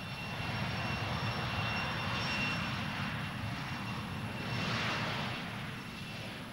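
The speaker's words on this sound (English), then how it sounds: "the U.S. Strategic Airlift Command lifted giant cargo planes with men and equipment bound for the oil fields of Kuwait." Engines of a giant military cargo plane of the U.S. Strategic Airlift Command drone steadily and loudly, a sustained roar with a thin high whine that swells gently toward the end.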